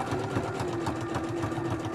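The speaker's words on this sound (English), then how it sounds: "I'm going to stitch. So it's going to be noisy." A sewing machine runs steadily on a zigzag stitch, size 3 width at about 1.5 spacing, while stitching small art journals; the close, loud motor hums with a rapid rhythmic needle chatter throughout.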